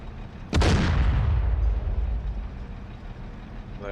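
A WWII tank's main gun fires in DCS World, a single sharp, loud blast followed by a long, rumbling low decay under a steady engine hum.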